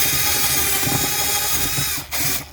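A power drill bores into a plastic wall panel inside a 2019-2020 Jeep Wrangler JL while a heated seat switch is fitted, whirring loudly and steadily before a brief pause and a short final burst.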